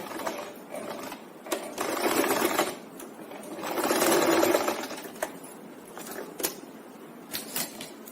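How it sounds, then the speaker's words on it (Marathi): A sewing machine double-stitching the belt of a fabric mobile pouch, running in bursts of rapid rattling stitches that swell and pause, with sharp clicks between runs. "जिथे बेल्ट आहे तिथे मी परत डबल स्टिच करते आणखी."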